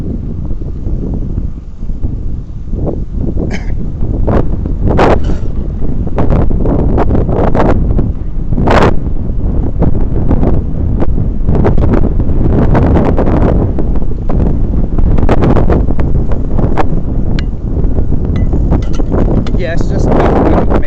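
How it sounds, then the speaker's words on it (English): Steady wind buffeting while cycling into a headwind along a river bikeway in Dayton, Ohio, a constant loud rush over the microphone with a voice talking through it. "Riding into a headwind. It's not the strongest wind"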